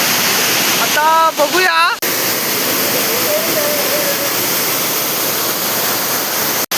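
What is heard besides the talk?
waterfall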